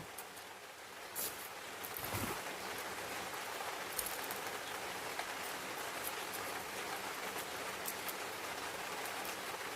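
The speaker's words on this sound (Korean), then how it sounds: "비가 어제 하루 종일 내렸고요. 오늘도 하루 종일 내리고 있습니다." Steady rain pours outdoors onto succulent plants, a dense, even hiss of drops with a few brief louder patters, close and continuous throughout.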